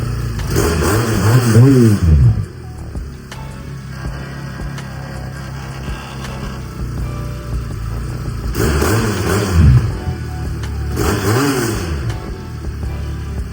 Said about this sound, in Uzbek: gaz berib ovozni eshitib ko'ramiz.